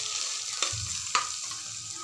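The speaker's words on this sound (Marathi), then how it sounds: "सर्व भाज्या आपण थोड्या तेलावरती परतून घेऊया" Mixed vegetables including capsicum frying in a little oil for veg pulao, an even hiss of sizzling with two sharp utensil knocks against the pan, no voices.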